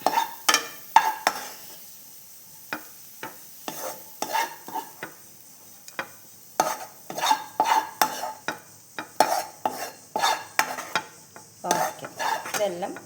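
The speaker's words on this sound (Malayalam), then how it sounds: "ഇനി നമുക്ക് നമ്മുടെ സാബൂനരിനെ വേവിച്ചെടുക്കാം." Sago pearls being stirred as they cook for payasam, a spoon scraping and knocking against the metal pot in steady bursts, close up with no talking.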